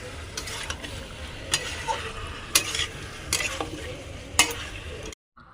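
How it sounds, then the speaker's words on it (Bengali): Meat sizzles in a pan on the stove as a spatula stirs it, making sharp scraping strokes about once a second over a continuous low frying hiss that cuts off abruptly at the end. "দিদি এখন মাংস রান্না করছে"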